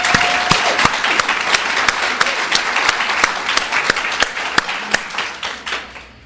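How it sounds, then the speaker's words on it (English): An audience claps in sustained applause for the tapers at an Al-Anon speaker meeting, a dense, even patter of many hands that holds steady and then tapers off toward the end. "could we give a round of applause to the tapers?"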